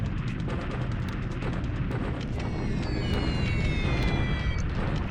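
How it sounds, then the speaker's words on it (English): Bombing explosions in the Focus Pacific strategy game, a dense continuous rumble of booms and bursts with faint whistling tones layered over it, loud and sustained. "More bombing here over Sian"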